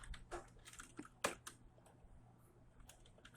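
Someone typing a name on a computer keyboard: a quick scatter of soft, close key taps with a louder stroke near the middle, thinning out toward the end.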